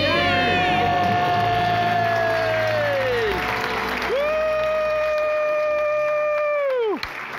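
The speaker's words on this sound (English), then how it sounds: "Let's hear a debt-free scream." A family shouts two long, loud, sustained screams together, each falling away at the end, while a crowd cheers and applauds behind them.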